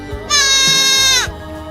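A baby goat gives a single clear, wavering bleat lasting about a second, loud and close, with nothing else around it.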